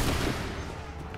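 Musket volley in Assassin's Creed 3, heard as a dense, loud burst of overlapping gunfire that decays over about a second.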